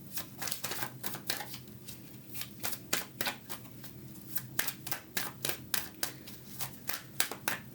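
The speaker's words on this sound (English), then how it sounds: "I don't always have my eyes closed when I'm shuffling." A deck of tarot cards is shuffled by hand in quick, crisp riffles and taps, repeated in a steady irregular rhythm, close and quiet with no voices.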